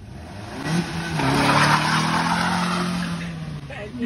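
Car revving hard and skidding while showing off, the engine rising in pitch as tires squeal, loud and close, with a voice talking briefly over it.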